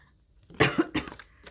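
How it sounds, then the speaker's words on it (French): A single close, harsh cough bursts out in a short series of rough hacks, followed by a brief throaty rasp. "excusez-moi pour la toux."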